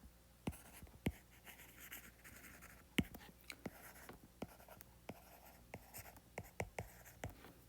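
A pen or marker writes physics equations on a surface in short, close strokes and taps, irregular and fairly quiet, with brief pauses between bursts.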